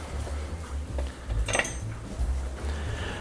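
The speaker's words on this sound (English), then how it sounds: "let's give that a stir" A spoon stirs Thai coconut curry soup with dumplings in a pot, giving a brief scrape and clink against the metal midway through, over a low steady kitchen hum.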